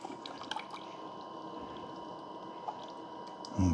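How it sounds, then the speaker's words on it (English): A Hamilton Beach Scoop single-serve coffee maker brewing an 8-ounce cup, with soft, faint dripping and trickling of coffee into the cup under a quiet hum, then a brief louder bump at the end. "we're getting coffee coming out right away"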